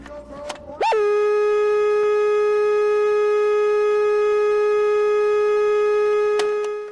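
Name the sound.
TV test pattern tone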